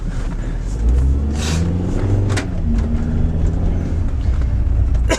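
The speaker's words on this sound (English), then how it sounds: "I guess I spun the tires there in the mud" A 2000 VW Bug drives through mud with a steady low engine rumble and brief surges as the tires spin, close and continuous throughout with no other sounds on top.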